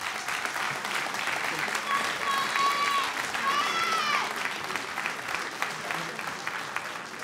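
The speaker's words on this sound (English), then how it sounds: "Please give them a round of applause," An audience at a kumite kickboxing event gives sustained applause that stays full and even throughout. Faint whistles or cheering voices rise briefly above the clapping.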